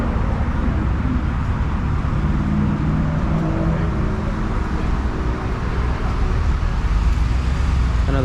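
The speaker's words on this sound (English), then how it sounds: "People are still pulling up." Cars rumble past and pull in at a late night car meet, a steady, loud wash of engine and road noise with no breaks, vehicles close by.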